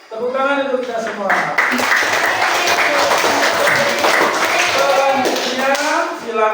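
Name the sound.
class applauding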